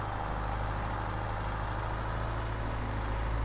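Tractor engine in Farming Simulator labouring up a hill, a loud, steady low diesel drone with a constant hum and even rumble throughout, no talking.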